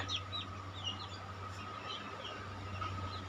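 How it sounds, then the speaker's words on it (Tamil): Many small broiler chicks peep and cheep continuously at close range, high chirps overlapping over a steady low hum, with no talking. "இது தாங்க, இது கறி குஞ்சுங்க."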